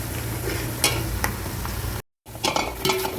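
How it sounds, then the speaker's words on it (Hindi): Onions sizzling in hot oil for biryani, a dense continuous fry with stirring scrapes, close and loud, cut by a short dropout of silence before the sizzle resumes. "इसमें प्याज डाल दिया है। अरे प्याज थोड़ा ब्राउन ब्राउन होगा"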